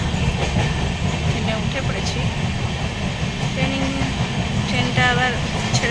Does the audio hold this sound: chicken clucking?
no